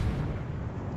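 A World of Warships main battery fires its shells: a deep, rumbling low boom that fills the moment and slowly decays, with no voices.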